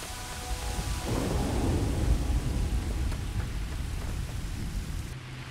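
Steady rain with a low rumble of thunder in the space game Starfield, a dark night scene at 2 a.m. local time; broadband wash of rainfall swells through the middle and holds fairly loud throughout.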